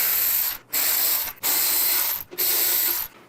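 A ratchet cranking out bolts from a Harley Softail fender strut, three bursts of rapid clicking separated by short pauses, close and clear.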